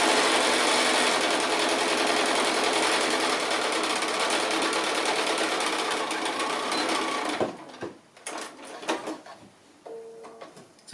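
A sewing machine runs continuously and loudly while stitching a fabric Christmas basket, then stops, followed by a few light handling knocks and clicks.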